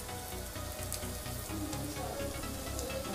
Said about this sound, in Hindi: अब इसमें हम फ्राई एग डाल देंगे